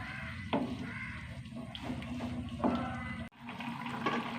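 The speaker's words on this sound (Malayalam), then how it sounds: "നന്നായി തിളക്കട്ടെ." A pot of salted curry with asafoetida boils on the stove, giving a continuous watery bubbling and gurgling with a few sharper pops, moderately loud and close.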